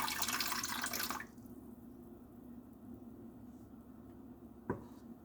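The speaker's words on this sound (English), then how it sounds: "So I'm going to add some cold water." Cold water runs from a tap into a bowl of hot water, a loud rushing stream that cuts off after about a second, leaving quiet room tone and then a single small clunk, with no speech.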